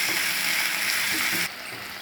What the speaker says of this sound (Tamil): அப்படியே வதக்கி விட்டுட்டே இருங்க.